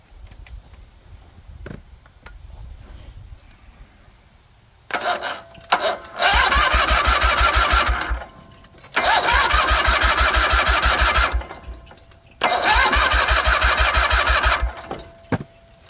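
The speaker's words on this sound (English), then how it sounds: "we're just going to hook up the power and see if it cranks the engine" A Kohler Magnum M20 small engine cranks on its starter in three long, loud churning bursts after a quieter stretch, the rhythmic turning sounding like it nearly catches and starts.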